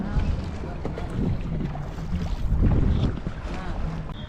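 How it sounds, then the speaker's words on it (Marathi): A small wooden fishing rowboat heading to shore from a larger boat at sea, with a rumbling engine-like drone, splashing water and wind gusting against the microphone, loud and close, with a voice faintly mixed in. "आता मी बोटमधून खाली उतरलो आहे होडीमध्ये आणि होडी जाणार डायरेक्ट किनाऱ्यावरती"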